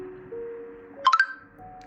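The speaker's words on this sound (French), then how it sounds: "Excusez-moi pour la notification, c'est YouTube" A YouTube notification on a phone sounds as a brief, soft chime of a few quick bright tones over a quiet background hum.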